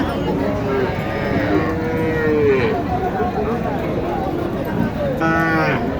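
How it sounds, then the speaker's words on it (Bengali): A cow at a rural cattle market in Naogaon, Bangladesh, lets out loud, drawn-out moos close by, one long call early and another toward the end, over a steady crowd murmur. "এখানে একটি গরু আপনারা নিশ্চয় তখন দেখেছেন"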